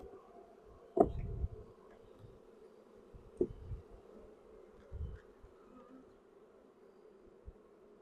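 Honeybees at an open two-queen hive during a Demaree split, a low steady buzz running throughout with a few louder thumps and knocks of frames being handled, no talk.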